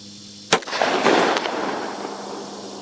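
A suppressed 9mm pistol fires a single shot of subsonic ammunition, a sharp nearby crack followed by a short decaying echo.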